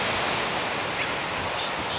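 Steady, dense roar of ocean surf at a dog beach in Carmel, California, a constant wash of breaking waves and wind filling the whole stretch without pause.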